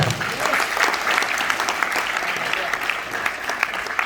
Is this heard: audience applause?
yes